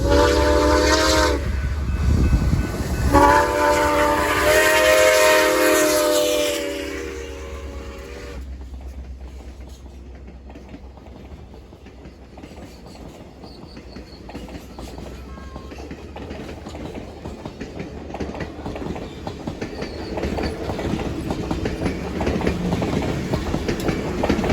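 Grand Canyon Railway 4960 steam locomotive runs through high desert, opening with a loud, steady whistle blast lasting several seconds, followed by a deep rumble and rolling clatter of cars that dips and then swells again as the train passes close by.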